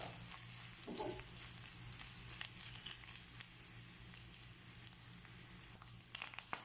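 Soft, steady sizzling of grated coconut frying in a pan, fairly faint, with occasional light scraping and crackles and no talking.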